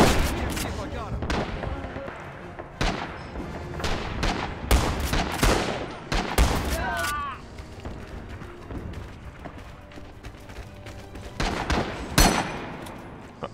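Gunfire in the World War II shooter Rising Storm, with a trench gun among the weapons: repeated loud, close shots in irregular bursts across the whole stretch, mixed with battle noise and voices talking.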